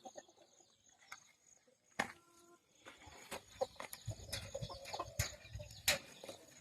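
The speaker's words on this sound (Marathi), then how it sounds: "बाहेरच्या कोंबड्या आपण बाहेर ठेवलेल्या आहेत जाळ्यामध्ये." Several chickens cluck and scratch in a netted enclosure, with scattered close clucks, rustling and sharp clicks from the mesh.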